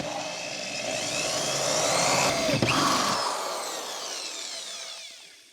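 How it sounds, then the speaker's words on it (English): A power drill whirs steadily, rising in load as it bites into material drilling a 7mm hole for a rivet nut, then winds down and fades out near the end. "now I'm gonna drill my 7mm hole."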